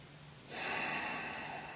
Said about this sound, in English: The diaphragmatic breathing, the deep belly breathing is very important because it's very calming and very soothing.